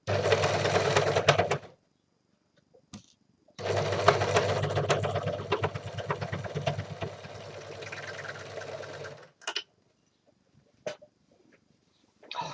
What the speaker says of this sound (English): My overlocker.